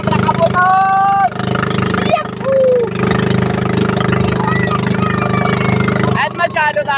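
A small passenger boat's motor drones steadily and loudly throughout, close by, with voices talking and calling out over the engine noise.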